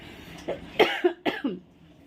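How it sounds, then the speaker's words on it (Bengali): A person coughs from spice fumes in a quick burst of four or five short, harsh coughs close by, then falls quiet. "কি কাশি হচ্ছে মশলার ঝাঁজ"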